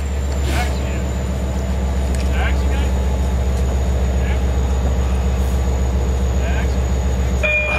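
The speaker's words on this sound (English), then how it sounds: "This is an eastbound train to Montauk." An LIRR eastbound diesel train bound for Montauk idles and rumbles at Mastic-Shirley station in January, a steady low engine drone with occasional clanks, while voices talk and station announcements play over it.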